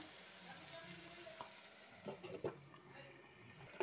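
Chicken frying in coconut oil in a covered pan makes a soft, steady sizzle, with several small bursts of bubbling and clinks of stirring toward the end.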